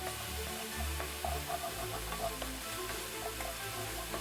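Ginger garlic paste sizzling in a hot pan, a steady frying hiss with soft crackles and occasional stirring clicks, close and continuous with no voices.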